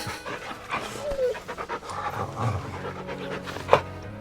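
A dog pants in the video game Final Fantasy 16, quick rhythmic breaths up close, mixed with soft game ambience and a brief bright chime near the end.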